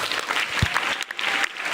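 Studio audience of youths and Islamic boarding-school students clapping during an Indonesian televised religious program, a thick, continuous round of applause with one low thump near the start.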